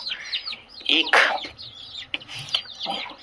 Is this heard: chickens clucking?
yes